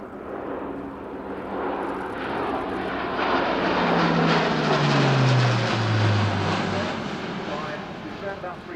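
An Airbus A400M Atlas military turboprop transport flies a display at the RIAT 2014 air show, its loud propeller drone swelling and Doppler-dropping as it passes, with a commentator talking over it.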